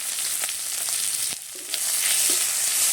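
Chopped onion sizzles in hot oil in a wok over a fiercely burning stove, a steady close crackling hiss with light stirring clicks throughout and a brief dip partway through.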